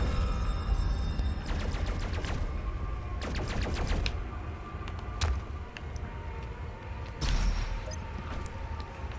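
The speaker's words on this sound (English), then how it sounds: "I'm beginning to hear gunfire." Gunfire in the first-person shooter DOOM Eternal, several rapid bursts of automatic fire at a moderate distance, separated by pauses over a steady game ambience.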